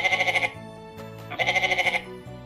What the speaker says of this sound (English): Bleated the sheep.